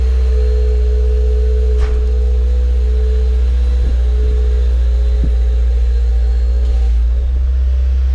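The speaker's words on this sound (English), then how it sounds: "every time I release the clutch, it makes this horrible sound" A Subaru WRX idles with a loud, steady low engine drone while the clutch is released, a sustained tonal whine running above it and a few faint knocks, no talking.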